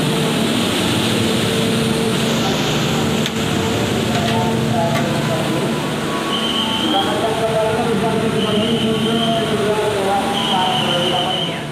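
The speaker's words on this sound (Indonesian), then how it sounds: "Ini ada KA Siliwangi, kereta api yang melayani rute Sukabumi Cianjur di stasiun Cipatat." The KA Siliwangi passenger train, serving the Sukabumi–Cianjur route, rumbles steadily through Cipatat station, a continuous loud roar with rolling wheel noise and a few high tonal whines, while a voice talks over it.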